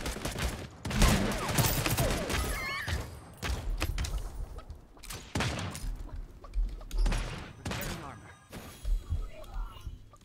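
Revolver shots in the video game Realm Royale ring out in sharp, spaced cracks among chaotic in-game noise, with voices talking over the action throughout.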